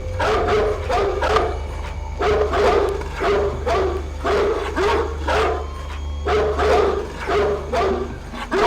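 Loud, close barking from a dog in Splinter Cell: Pandora Tomorrow comes in quick repeated volleys with short pauses, over a low constant background hum.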